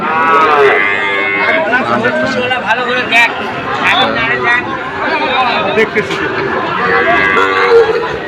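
Shahiwal cattle at the Ambari cattle market in Dinajpur, with repeated lowing moos carrying over a steady crowd babble and nearby chatter throughout.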